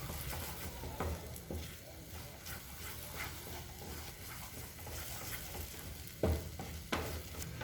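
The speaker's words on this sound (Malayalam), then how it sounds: "ഇപ്പം നമ്മുടെ മുട്ട ഒഴിച്ച് കൊടുത്തു. ഇനി നന്നായിട്ടൊന്ന് ഇളക്കി കൊടുക്കുക." Scrambled eggs stirred while frying in a pan over low flame, with a faint steady sizzle and occasional soft scrapes and knocks of a utensil, a couple of them sharper near the end, close and quiet.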